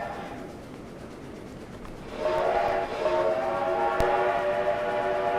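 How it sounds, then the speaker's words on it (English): Steam locomotive in the Trainz train simulator game, with a low rumbling chuff that swells about midway into a sustained multi-tone whistle blast, moderately loud with a faint sharp click near the end. "I wanted to use a steam locomotive because, you know, why not?"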